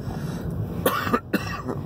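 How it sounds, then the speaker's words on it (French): Two or three short, close coughs over a constant low background hum. "excusez, je tousse aujourd'hui pour une raison que j'ignore"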